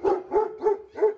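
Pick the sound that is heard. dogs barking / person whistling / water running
dogs barking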